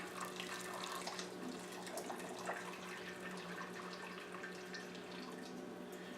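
Water runs quietly and continuously into a stainless steel sink while clothing is dyed green, a soft, steady splashing stream with faint drips.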